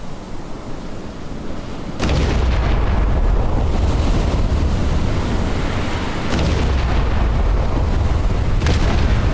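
Naval gunfire in the game Battleship Command, MicroProse: heavy booming blasts burst out and roll into a long, loud, noisy roar, with fresh impacts striking twice more over the sustained rumble.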